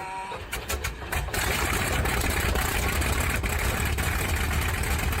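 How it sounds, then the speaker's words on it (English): A Bristol Hercules 14-cylinder two-row sleeve-valve radial aircraft engine runs with a loud, dense, steady roar after a brief uneven start, heard close and alone without talk. "The Hercules itself was a powerful 14-cylinder, two-row radial engine designed and built in Britain by the Bristol Aeroplane Company"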